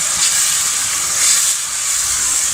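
Tomatoes frying in a pan for egg and peas curry, giving a steady, loud, broadband hiss that continues without a break.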